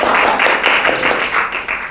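Classroom of children clapping together in a counted rhythm, a loud pulsing series of group claps at a quick even beat.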